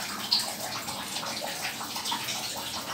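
Fish kuzhambu curry with small onions bubbling in a pot, a close, steady watery simmer with small pops and burbles throughout and no one speaking.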